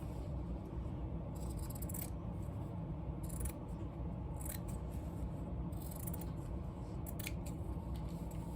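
Scissors cut through a cardboard box in a quiet room, giving several short, crisp snipping bursts spaced irregularly over a faint background rumble.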